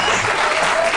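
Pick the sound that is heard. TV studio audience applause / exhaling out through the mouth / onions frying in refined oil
TV studio audience applause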